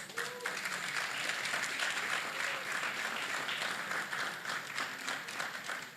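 An audience claps steadily for several seconds at a student meet-up with animation professionals, dense even applause at moderate level with no speech over it.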